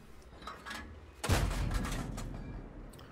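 A single deep, booming tank cannon shot in World of Tanks from a Strv 74 fires suddenly after a quiet stretch, its low rumble rolling on and slowly fading.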